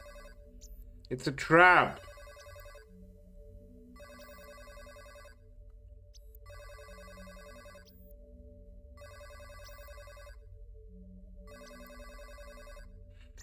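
An old-style telephone bell rings in the video game Astronite, repeating in evenly spaced bursts with short pauses between them, and a loud voice shouts over the first ring.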